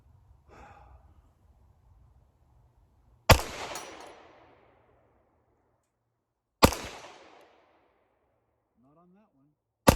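Live gunfire: sharp, loud single shots fire a few seconds apart, each followed by a short ringing decay, with quiet breathing and faint movement between them.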